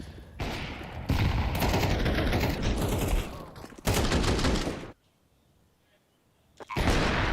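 Rapid gunfire in a Counter-Strike match at the IEM Cologne Major, loud dense bursts of shots in two long stretches broken by a near-silent gap, a further burst returning at the end.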